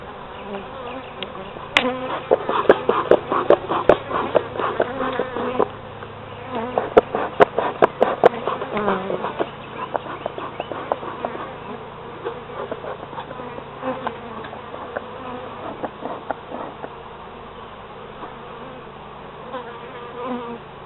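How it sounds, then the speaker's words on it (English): Steady buzzing of many honey bees crowding close around hive frames during a hive inspection, a dense insect drone with occasional louder swells and small knocks, no voices. "These bees just want to get in between the frames and don't want to move."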